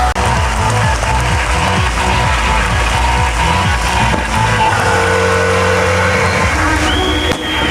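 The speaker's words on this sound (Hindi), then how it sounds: "हम बिहार पुलिस के जवानों के लिए जोरदार ताली।" Crowd applause for Bihar Police BSAP jawans at an outdoor passing out parade in Bhimnagar, Supaul, steady and loud throughout, mixed with band music and a low engine-like rumble underneath.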